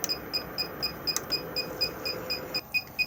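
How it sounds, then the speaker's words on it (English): A Swift Conqueror 480 caravan's alarm signals an empty fresh water tank with a string of short, high, evenly spaced electronic beeps over a quiet room hum, no talking. "That noise you can hear is just indicating that the fresh water tank is now empty"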